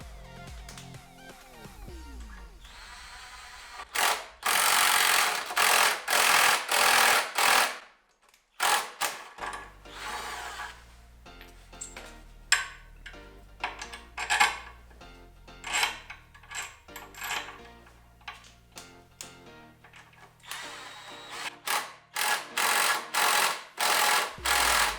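Battery-powered drill driving parts during a model car build, heard as repeated short whirring bursts that start and stop in uneven runs, some loud and some weaker, with no talking.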